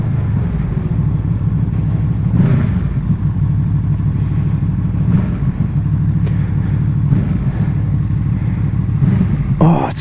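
A Honda VFR800F motorcycle with an SC Project Conic exhaust and its dB killer removed, a loud close engine rumble with repeated revs and throttle swells, idling and blipping continuously with no talking over it.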